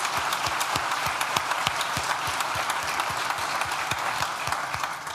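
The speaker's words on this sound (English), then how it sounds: "Firstly, I just want to give a round of applause to Christine for that," Sustained applause from a graduation ceremony audience at Nottingham Law School, a dense, steady patter of many hands clapping at an even level throughout, with no talk over it.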